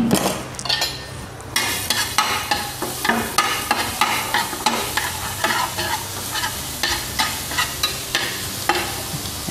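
Minced garlic sizzles in hot oil in a pan while a spatula stirs it in a steady rhythm of scrapes and clinks, loud and close, with no talking.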